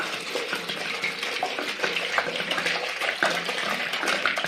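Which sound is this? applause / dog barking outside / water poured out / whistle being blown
water poured out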